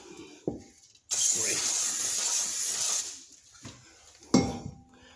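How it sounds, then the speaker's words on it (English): An aerosol can sprays lubricant onto a stuck rear brake drum in a loud, steady hiss lasting about two seconds, with clanks of metal parts being handled just before and after it. "Give it a good spray."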